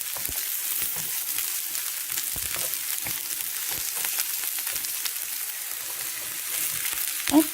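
Cabbage sizzles in a pan over low heat while a stuffed potimarron squash is being prepared. A steady, close frying hiss carries scattered soft crackles, with one slightly louder pop near the end and no voices.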